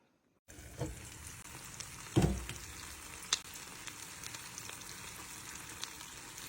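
Eggs frying in a pan give a steady close sizzle and crackle throughout, with a few louder pops and spatters rising above the constant hiss.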